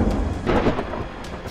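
Thunder rolls in a deep, loud rumble during a rainstorm in Bihar, with the rain's steady hiss underneath and a swell in the middle of the rumble.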